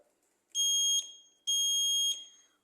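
A buzzer wired to a Siemens S7-200 or Omron CP1H PLC output sounds two loud, shrill electronic tones, each about half a second long, separated by a short gap against near silence.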